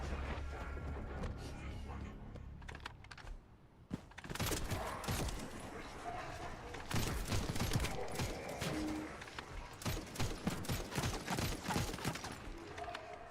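Gunfire crackles through the sci-fi looter shooter The First Descendant in bursts of rapid shots, with sharp mechanical clatter and impacts. The firing is moderately loud and thickens in the second half.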